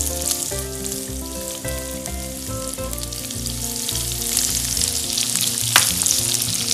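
Garlic, onion and green capsicum frying in a pan give a loud, steady sizzle, with occasional scraping and stirring knocks from a utensil.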